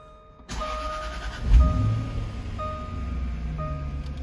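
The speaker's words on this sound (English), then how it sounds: "let me actually get inside the car and start the car up" A Jaguar XKR 4.2 416 bhp coupe engine cranks and fires up, catching with a brief rev flare before settling into a steady, close idle, with faint electronic chimes at intervals.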